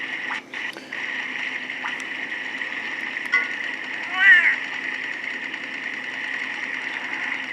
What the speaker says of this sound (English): That waterfall really stands out for noise